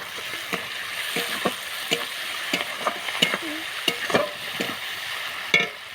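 Ground coriander, cumin and green peas fry in a pan with a soft continuous sizzle, punctuated by repeated scraping clicks of a spoon stirring the mixture.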